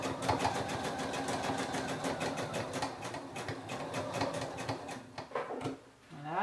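Sewing machine running steadily as it stitches a long straight seam along a skirt at 8 mm, a fast even mechanical whirr and patter that slows and stops near the end.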